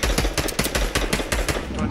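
Rapid gunfire from a sniper battle in an online shooter video game, a dense burst of loud, closely spaced shots filling the whole short moment with no gap.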